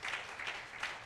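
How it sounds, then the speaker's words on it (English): A church congregation gives a brief burst of hand clapping in praise for the ushers, a brisk, moderately loud patter of many hands. "Give the Lord a hand clap of praise for our ushers"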